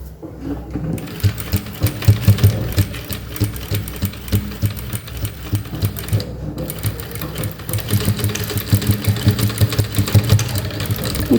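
A sewing machine runs continuously and close by, double-stitching the folded edge of a baby cap for a 3 to 12 month old, with a rapid rhythmic mechanical chatter throughout.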